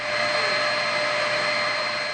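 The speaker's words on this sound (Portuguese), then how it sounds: "O som é de um aspirador de pó." A vacuum cleaner cleans centuries-old archive books and documents of the Archdiocese of Olinda and Recife, giving a constant, close, whining hiss with no pauses and no voices.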